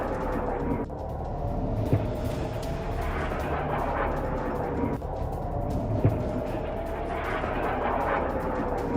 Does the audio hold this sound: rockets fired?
yes